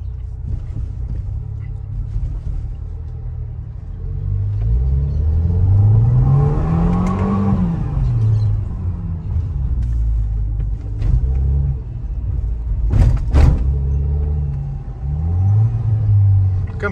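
Fiat Pulse Abarth engine revving through first gear from the cabin, a rising and falling drone that swells near the middle and returns later, moderately loud with some background voices.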